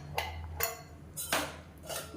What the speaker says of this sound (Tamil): இப்போ வந்து மூடி வச்சிடலாம்.